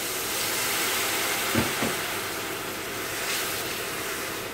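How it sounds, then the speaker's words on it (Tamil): Water poured into a pan of tomato masala for ghee rice, hissing and sizzling loudly in a steady wash, with a few brief louder spits and bubbling bursts. "இப்போ இதில் கொஞ்சமாக தண்ணி ஊற்றி கொதிக்கும்"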